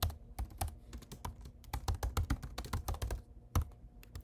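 Rapid typing on a computer keyboard while entering a street address into a registration form, a close, irregular run of crisp key clicks with brief pauses between bursts.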